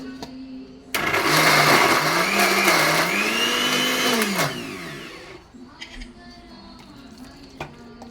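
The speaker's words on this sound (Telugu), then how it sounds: "అప్పుడప్పుడు ఇట్లా కలబెట్టుకుంటూ మిక్సీకి వేయాలి." A mixer grinder grinds ridge gourd chutney with green chillies and no water, whirring loudly for several seconds with a rising and falling motor whine, then stops, leaving faint clatter and small knocks.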